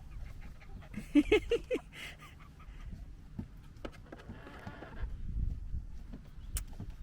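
Backyard chickens cluck in a short run of bright, rapid calls near the start, then scattered softer clucks and rustling over a low, steady outdoor background, moderately distant and fairly faint.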